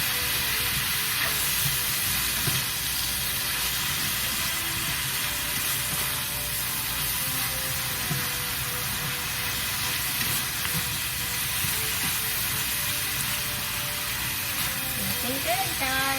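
Yellow summer squash and Vidalia onion sautéing in a pan give a steady, close sizzle with a few stirring scrapes throughout.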